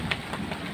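Heavy rain from a windy storm hammers down in a close, continuous hiss and patter, loud and unbroken until it cuts off abruptly.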